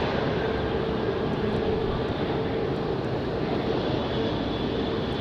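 An airplane arriving at Raleigh-Durham International Airport at night: a steady, broad, distant engine roar that holds at an even level throughout, with no voices.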